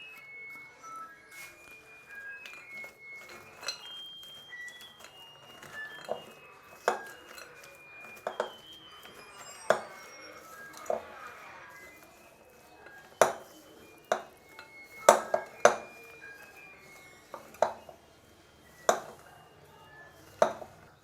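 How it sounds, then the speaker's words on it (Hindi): A spoon clinks and scrapes against a bowl while almonds are stirred into melted chocolate, giving sharp, irregular taps that grow louder and more frequent toward the end, close up with quiet kitchen background. "तो ऊपर से फिर से चॉकलेट डालेंगे और मिक्स करते जाएंगे।"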